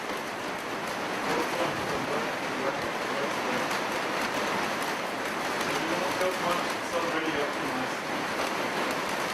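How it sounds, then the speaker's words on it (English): Heavy rain pours without pause during an evening spiritual talk, a loud, dense hiss of drops filling the whole stretch, with faint voices murmuring underneath. "There's a lot of sound from the rain."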